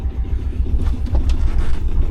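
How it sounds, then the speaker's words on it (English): A sailboat's engine idling, a loud, close, low rumbling drone with steady throbbing pulses and faint water noise above, no talking. "Let's turn the engine off and have some of that lovely sailing silence as we go across the sound."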